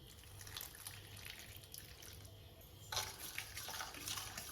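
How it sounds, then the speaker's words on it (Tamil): Water splashes and trickles steadily into idli batter for bajji, close and fairly quiet, with a brief louder surge of liquid partway through. "இதில் கொஞ்சமாக தண்ணி விட்டுக்குங்க"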